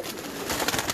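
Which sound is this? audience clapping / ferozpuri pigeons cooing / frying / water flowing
ferozpuri pigeons cooing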